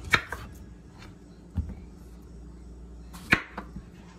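Knife chopping peeled plantains into sections on a cutting board for mangú, a few sharp isolated taps and thuds spaced irregularly, close and fairly quiet.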